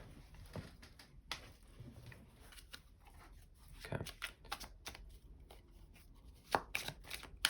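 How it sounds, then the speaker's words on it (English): Crisp papery tarot card shuffling with irregular riffles and snaps, close and fairly quiet, building to sharper bursts near the end; no talking. "So you're actually gonna see me shuffle a little bit."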